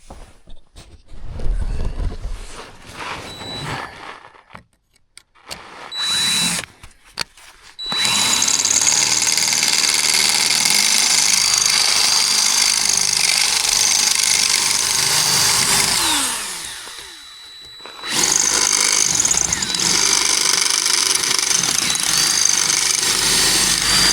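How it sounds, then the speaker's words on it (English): A power drill with a drill bit whines loudly and steadily while removing riv nuts from a car's inner fender, running in long sustained bursts with short quiet gaps and clattering handling sounds between them. "I'm just gonna go grab a drill bit and start taking all the riv nuts off"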